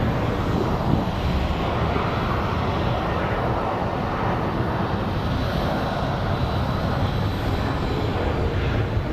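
Airliner engine roar at Phoenix Sky Harbor airport, a steady, loud broadband rumble that holds evenly for the full stretch with no voices.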